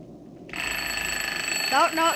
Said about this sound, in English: No, that's an alarm clock.